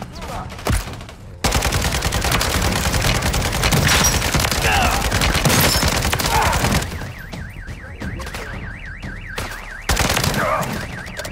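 Rapid bursts of gunfire from the Call of Duty video game crackle loudly and almost without pause, thinning toward the end as a looping electronic tone and scattered sharp shots take over.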